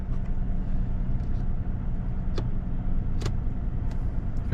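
A car engine idles just after startup: a steady low hum that stays even throughout, broken by a couple of brief, sharp clicks.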